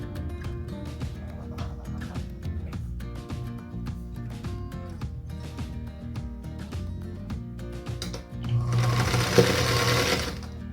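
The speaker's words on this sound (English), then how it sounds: "let's piece the center one, and then we'll sew those 3 rows together" Featherweight sewing machine stitching quilt block pieces for a nine-patch star block, a steady close mechanical whir with rhythmic needle ticking throughout, rising to a louder, faster run near the end.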